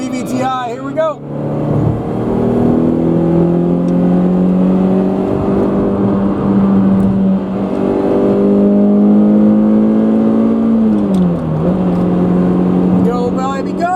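Small Toyota car with a VVTi engine accelerating in heavy traffic, a steady engine drone rising in pitch and easing back near the end, loud and close from inside the cabin.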